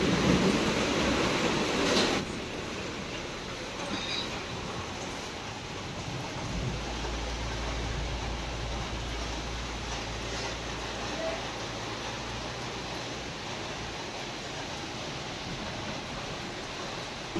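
Heavy monsoon rain falls as a dense, even wash of noise that is loudest in the opening seconds and then settles into a steady roar with a low rumble underneath, and there is no talking.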